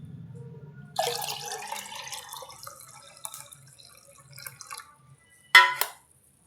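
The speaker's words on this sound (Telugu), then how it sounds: "ఇంకో 2 బాక్సులు ఈ మామూలు వాటర్ కలపండి" Plain water is poured into onion-peel fertilizer water and mixed, with faint trickling, scattered drips and splashes, ending in one short, louder pouring gush.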